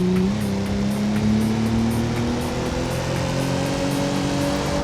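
A Stirling S6 car's straight-six engine with quad exhausts drones steadily inside a tunnel in BeamNG, echoing, its tone rising gradually as it accelerates, loud and continuous with no talking.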